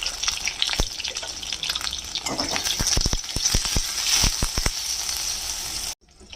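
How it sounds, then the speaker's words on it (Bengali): Eggplant frying in hot oil: loud, continuous sizzling, close up, with sharp scraping and tapping from stirring near the end, then sudden quiet. "বেগুনগুলোকে আগে ভেজে নেব"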